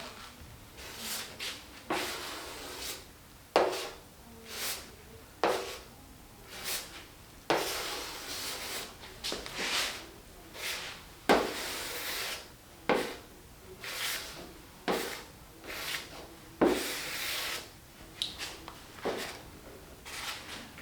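Hand sanding on a drift car's body during paint prep, close rhythmic rasping strokes repeating roughly every second or so, each a short scratchy swipe, fairly quiet with no talk.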